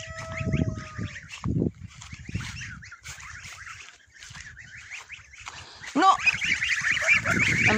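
A flock of geese honks repeatedly in a farmyard, the calls loud and near, overlapping in bursts with a brief lull midway, and a louder cluster of honks toward the end.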